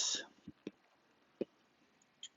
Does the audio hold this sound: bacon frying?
no